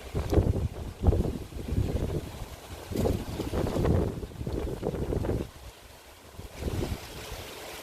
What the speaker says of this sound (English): Very windy, very windy.